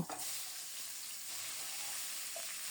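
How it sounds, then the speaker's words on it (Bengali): Dried red chilli and whole cumin tempering in hot oil for a pumpkin dal, giving a steady, close crackling sizzle that runs alone without pause. "ফোড়নে দিচ্ছি একটা শুকনো মরিচ আর গোটা জিরা।"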